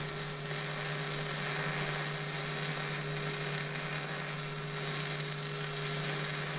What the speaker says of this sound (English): we're going to use the Miller-Matic 211 MIG welder. We're going to tack this end.